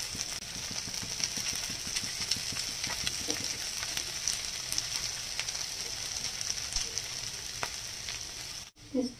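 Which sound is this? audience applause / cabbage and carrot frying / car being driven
cabbage and carrot frying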